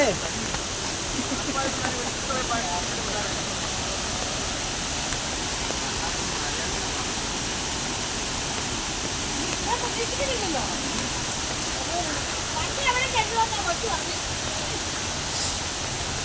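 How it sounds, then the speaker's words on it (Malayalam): Water rushes in a continuous, dense roar, as of a waterfall close by, steady throughout with faint voices underneath. "ഇങ്ങനെ നിരന്നു ഒഴുകുന്ന വെള്ളം"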